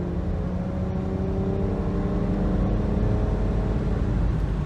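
A 2000 BMW 323Ci engine pulls steadily under acceleration, a continuous smooth hum with rising tonal harmonics, close and unbroken with no talking.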